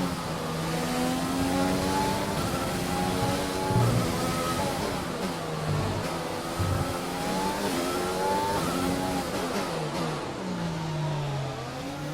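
A Formula 1 car engine from the racing game F1 2020 on the Monaco circuit screams steadily at high revs, its pitch climbing and dropping through the gearshifts, loud and constant with no talk.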